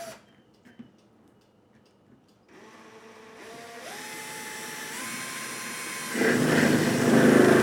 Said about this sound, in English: try to get an idea of how fast you can expect to drill through these